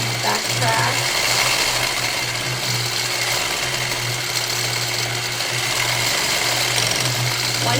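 Continuous humming sewing machine stitching a feather fill quilting pattern, steady motor drone with rapid needle chatter throughout, close and loud, with no pauses.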